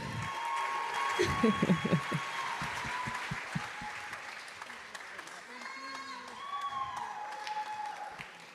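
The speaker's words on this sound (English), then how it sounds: "let's give a round of applause for Nuran Abu Taleb" Applause at the World Food Forum closing ceremony rolls on as a continuous, moderately distant wash of clapping, with voices and brief tonal sounds threaded through it.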